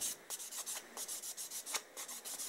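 A fingernail being filed with a nail file during an at-home gel nail session, quick rasping back-and-forth strokes in a steady rhythm, close and fairly quiet with no talk.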